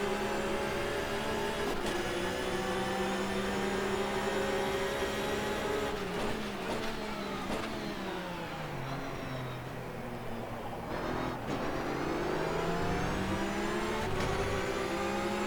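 A flat-six endurance race car in rFactor 2 at Palm Springs drives at a loud, close, raspy high pitch, with sharp upshifts and a dip through a braking downshift before it climbs again.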